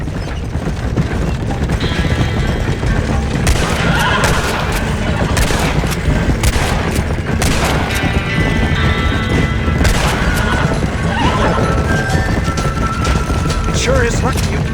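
A Red Dead Redemption shootout plays out with scattered sharp gunshots cracking over a steady rumble of galloping horses and ambient noise, the shots loud and irregularly spaced throughout.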